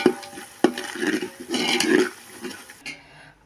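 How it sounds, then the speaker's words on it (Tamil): Ginger garlic paste being stirred in a pot for turkey biryani, with repeated scraping and sizzling strokes up close that stop abruptly near the end. "இந்த மாதிரி கிண்டிகிட்டே இருந்தால் அடி பிடிக்காது"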